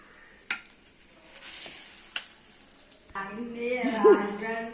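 Instant tomato chutney stirred in a pan after the tempering has fried, with a few early knocks of the spoon, then steady scraping and soft sizzling that grows busier and louder toward the end.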